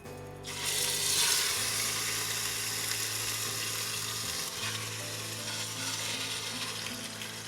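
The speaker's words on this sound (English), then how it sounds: "And we'll go ahead and lay our chicken in." Chicken pieces sizzle loudly and continuously after being laid into a hot stainless steel pot over medium-high heat, a dense close frying hiss with faint crackles and no talk.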